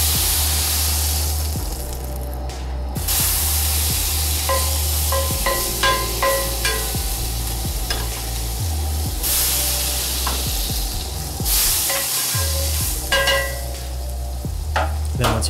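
Butter sizzles loudly in a searing-hot cast iron skillet, a constant frying hiss with occasional stirring scrapes and small pops, close up and with no talking.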